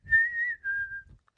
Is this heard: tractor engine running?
no